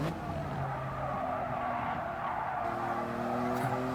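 A Toyota GR Yaris racing at Fuji in GT Sport, its engine droning at steady high revs with gear shifts stepping the pitch, while tires squeal and skid continuously underneath.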